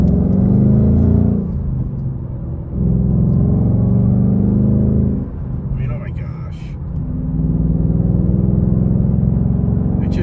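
A Ford Mustang Mach 1 engine hums and rumbles at close range, its pitch rising and falling as it drives, with brief sharp noises near the middle.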